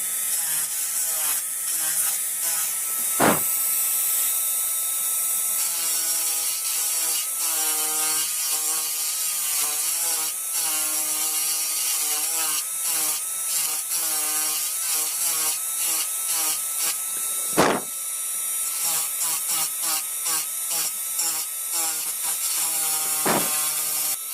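A high-speed dental bur grinds grooves into a mandibular first molar during a crown preparation: a continuous shrill whine that rises and falls in short passes, with a few sharp clicks and no speech.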